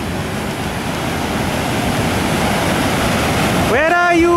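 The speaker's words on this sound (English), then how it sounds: "Look at the waterfalls." Iguazu Falls on the Argentine side, near the Devil's Throat, a constant loud roaring rush of falling water, with a voice starting to speak over it at the very end.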